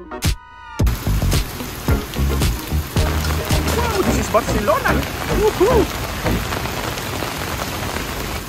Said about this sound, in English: Oh my god, it's raining and it's wet.